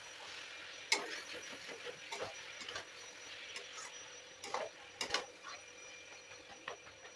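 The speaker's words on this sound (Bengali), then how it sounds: "এবার আমি ঢাকাটা খুলে ভালোভাবে এটা নাড়িয়ে চাড়িয়ে দেখে নেবো সেদ্ধ হয়েছে কিনা।" A spoon stirs fish-head and cabbage curry in a pot, giving scattered scraping and clinking knocks at an uneven pace over a low background hiss, close by and moderately loud, with no talking.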